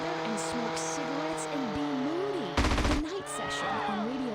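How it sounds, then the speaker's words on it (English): Rapid gunfire in GTA San Andreas, a brief close burst of fast repeated shots cutting through steady engine drone and game music. "I'm shooting you and you're not even moving"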